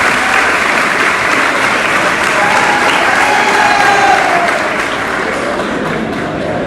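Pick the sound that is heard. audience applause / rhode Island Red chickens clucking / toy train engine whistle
audience applause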